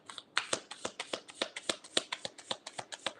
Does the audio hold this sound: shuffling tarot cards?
yes